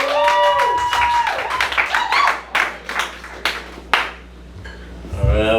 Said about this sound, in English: Give a round of applause for Matt.